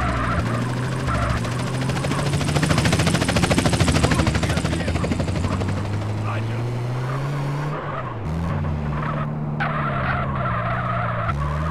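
A Hydra jet is stolen in the game GTA San Andreas, with a loud roaring jet engine and whining turbine that rises and shifts in pitch, mixed with car engine and tire noise throughout.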